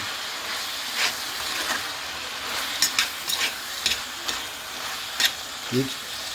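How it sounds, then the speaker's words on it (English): Ackee and saltfish stirred slowly in a sizzling pan, with a steady frying hiss and intermittent scraping strokes from the spoon, close and moderately loud, with a brief voice near the end. "You slowly mix it up."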